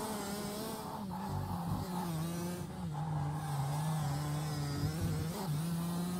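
A racing kart laps Buckmore Park, its engine droning loud and close with pitch rising and dropping through the corners, brief dips as it lifts off, with no talk.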